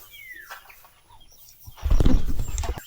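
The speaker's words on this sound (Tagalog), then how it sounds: "Yung ating mga manok, busy oh." Faint chicken sounds, including a short squawk, give way to louder rustling and scratching noises near the microphone as the chickens dig in rice hull.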